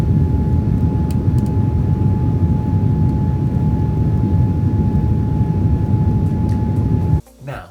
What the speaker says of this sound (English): We made it onto the airplane, and now I have a 10-hour flight ahead of me.